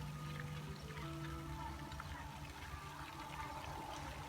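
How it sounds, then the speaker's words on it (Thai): A water fountain splashes at the centre of a garden cafe with a pond and bridge, a steady broadband wash of falling water heard nearby throughout without pause. "จะมีน้ำพุอยู่ตรงกลางนะครับ"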